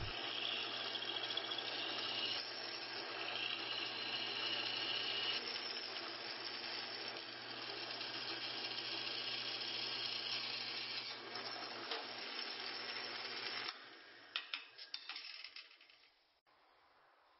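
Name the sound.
drilling holes in aluminum plates with a 1/8 inch bit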